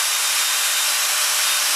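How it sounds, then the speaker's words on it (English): A cordless drill fitted with a foam cutter bores straight through foam at high speed, giving a continuous loud, close hiss-like whir with no pauses. "put it in a cordless drill. Again, don't drill into the tabletop, just straight through the foam."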